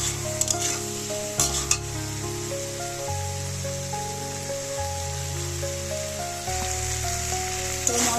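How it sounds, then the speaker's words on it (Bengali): Spice paste sizzles in a pan with a loud, continuous crackling hiss and a few stirring clatters, while steady musical tones run beneath it. "তো মশলাটা আমার একেবারেই হালকা ভাজা হয়ে গেছে"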